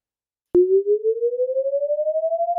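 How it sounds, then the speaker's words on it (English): Tornado siren alert tone from the WeatherWise weather app, sounding as a single steady electronic tone that slowly rises in pitch, clear and alone with no talking. "that is the tornado siren in the WeatherWise app that is signaling a new tornado or an upgrade to the tornado"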